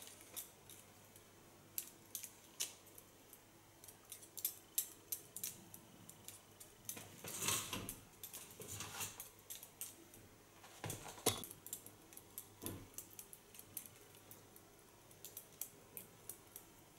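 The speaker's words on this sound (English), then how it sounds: "The sound of scissors." Scissors snip through hair during a cut-and-color session, a quick irregular run of sharp metallic clicks and slices, close and fairly quiet, with no talking.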